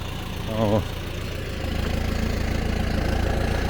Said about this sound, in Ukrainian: Трактори ходять на автопілоті.